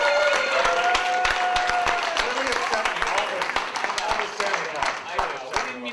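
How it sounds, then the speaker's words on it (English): A theater audience at NC Stage Co. in Asheville, NC applauds steadily, with many hands clapping at moderate distance and a few voices and cheers mixed into the applause. "so let's give a round of applause for Santa."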